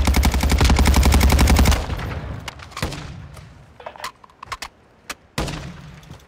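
Rapid automatic gunfire rattles loudly in a video game shooter as a dense burst of evenly spaced shots. It stops and is followed by scattered clicks and a few single cracks.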